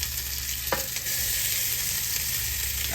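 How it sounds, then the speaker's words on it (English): Leftover meatloaf warming in a hot skillet gives a steady, soft sizzle and crackle that runs for the whole stretch, with one small clatter near the start. "we're gonna put this meatloaf right here in this skillet. And we're gonna warm it up."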